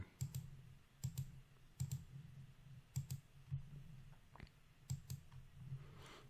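Mouse clicks on an OK button in CAD software, a sharp, close, quiet click repeated about seven times at a steady rhythm with no talking.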